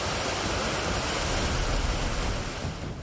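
Flash floodwater near Gajgarh by Dharamshala, Himachal Pradesh, surges like a big river, a loud, dense, continuous roar of rushing water with no letup.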